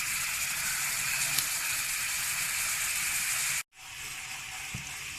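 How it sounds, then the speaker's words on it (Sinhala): Hot water hitting caramelizing sugar in a pan sends up a continuous hissing sizzle that is faint and steady, broken by one brief dropout before resuming. "සීනි ටික මේ විදිහට කැරමල් වීගෙන එනකොට තද උණු වතුර මේස හැඳි 2ක් විතර එකතු කරගමු."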